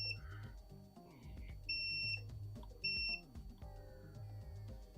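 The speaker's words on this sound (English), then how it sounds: "Now you guys can hear the beep." Multimeter in continuity mode beeps with two steady high electronic tones, each lasting about half a second, on a PS5 HDMI repair bench, with background hum and clatter.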